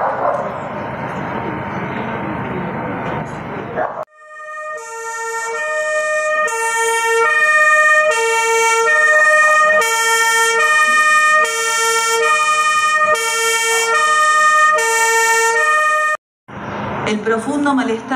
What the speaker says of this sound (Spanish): Durante un minuto sonarán las sirenas de los bomberos recordando aquel trágico momento en donde explotó el edificio.